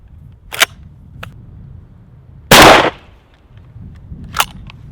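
A single loud, close shotgun blast from Winchester Super X 3.5-inch BB loads through a Benelli modified choke at 20 yards, with a brief decaying tail and a few faint clicks before and after.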